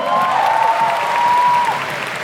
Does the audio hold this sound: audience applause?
yes